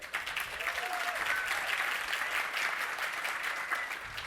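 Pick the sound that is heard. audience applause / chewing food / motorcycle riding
audience applause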